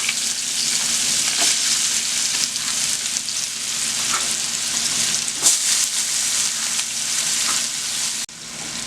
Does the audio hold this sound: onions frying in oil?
yes